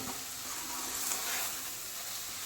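Tomatoes are mashed and stirred in a hot pan for a spicy mushroom biryani, giving a steady, close sizzle with faint stirring scrapes and no talk.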